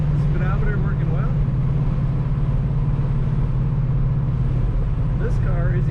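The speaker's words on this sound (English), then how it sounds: "Strong acceleration in this Oldsmobile. Very nice running engine." A 1969 Oldsmobile 442 engine runs under acceleration, its steady, deep drone holding close and loud throughout while someone talks over it.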